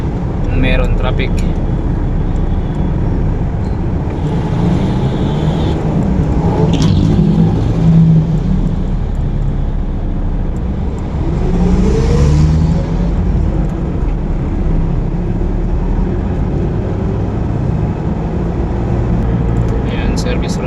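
Continuous road traffic on East Service Road in Paranaque, heard from inside a moving delivery vehicle: a loud, steady engine and road rumble with passing cars swelling and fading.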